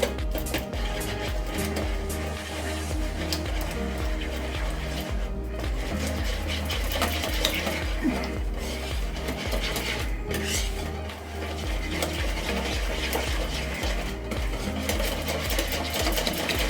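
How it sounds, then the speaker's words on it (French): Coconut flan batter being mixed with an electric mixer, a steady, loud, continuous motor whir that holds constant throughout with slight fluctuations and no speech. "Et on va déjà mélanger tout ceci."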